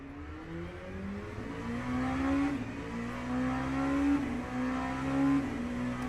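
GT3 race car in a racing video game on the Imola circuit, its engine note climbing and dropping through gear changes as it drives, a steady loud drone with no voices.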